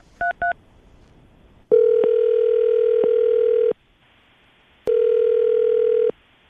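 Telephone call being placed: two quick dial-tone beeps, then two long steady ringback tones separated by a pause, loud and clean with no talking.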